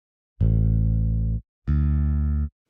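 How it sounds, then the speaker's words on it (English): Two sustained bass notes from a free Ample Bass finger bass plugin in Logic Pro X, each held about a second, clean and loud with a short gap between them. "you can get a good finger bass sound out of it"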